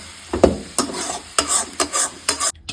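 Chicken for pasta is stirred in a hot pan, with about half a dozen rhythmic scraping strokes over a bright, close sizzle that stops abruptly at the end.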